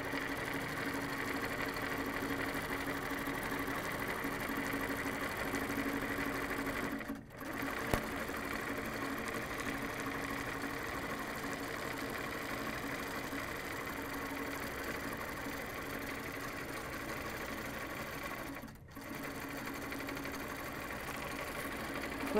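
An HQ longarm quilting machine guided by a Pro-Stitcher Premium computer system stitches steadily with a soft, continuous mechanical whir, pausing briefly twice before resuming at the same even pace.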